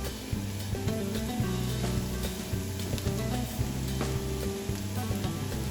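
Ground beef and onions for a Malabar-style beef samosa filling sizzle steadily in a pan, with repeated scraping and stirring strokes over the constant crackle.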